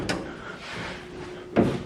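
The door of a 1950 Chevy Business Coupe with new, tight gasket seals shuts hard, a solid thump near the start and a heavier slam at the end, with quiet shop ambience between.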